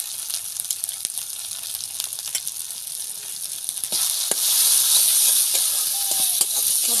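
Ginger garlic paste and salt sauté in hot oil, sizzling steadily with scattered spoon clinks as it is stirred. The hiss swells noticeably louder partway through, with no talking over it.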